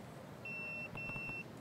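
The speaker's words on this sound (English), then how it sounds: "My pager is beeping." In-game pager in Yakuza 0 beeping, two short electronic tones in quick succession, clear and steady over quiet background ambience.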